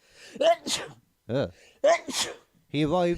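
A single loud, close sneeze burst amid casual talk between people, with speech before and after it.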